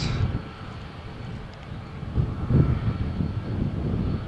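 Jet airliner taking off from runway 13 at Malaga Airport on a stormy morning, a steady distant engine roar mixed with wind buffeting that swells slightly toward the end.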